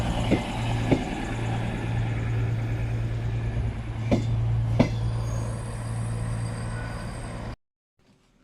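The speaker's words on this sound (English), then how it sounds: "This is going to be our train for the day, an ex-Avanti West Coast 221." A former Avanti West Coast Class 221 high-speed train rumbles along at a steady low roar, with a few sharp clanks over it, before the sound cuts out near the end.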